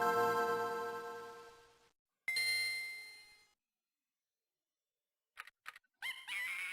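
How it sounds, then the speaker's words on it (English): Chiptune effects from the Pirates of the Caribbean Game Boy game: a bright bell-like jingle fading out, a second clanging tone, then after a pause short squawking chirps like a monkey call and bird squawk, loud and alone. "that monkey sound is a core memory. So is that bird squawk"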